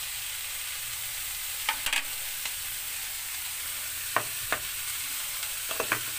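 A spatula stirs bitter gourd (ampalaya), seasoned with salt and chicken cubes, frying in a pan. A constant sizzle runs underneath while sharp scraping clicks come in scattered bursts, close to the pan, with no talking.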